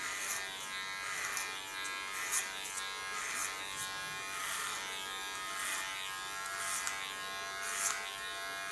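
A Kiona electric hair clipper buzzes steadily up close while shaving the nape of the neck, a continuous bright motor whine with slight periodic swells as the blades move through the hair.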